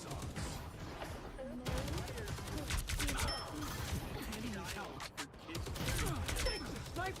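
Exploding plasma and gunfire in a video game form dense, continuous bursts of shots and blasts layered over one another, with voices talking through the chaos.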